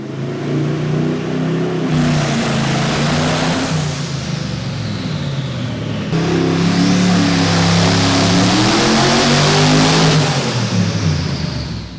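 A Mercedes-AMG E55 engine, fitted with a custom dry sump, revs hard during an onboard dyno run at full throttle and full boost, its loud, close roar climbing in pitch twice, dropping briefly between the pulls.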